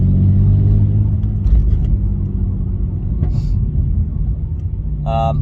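BMW E46 with a back box delete and the mid box retained, its exhaust giving a loud, deep, steady rumble close by, with a brief higher whine and light clicks near the end.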